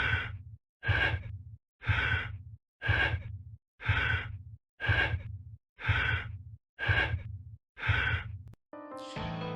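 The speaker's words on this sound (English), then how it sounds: "You're forced to listen to this heavy ass breathing until you remove the suit." Heavy breathing inside a protective suit in the PS1 horror game R?MJ: loud, close, rhythmic breaths, about nine evenly spaced heaves with brief silent gaps, ending in a short electronic tone.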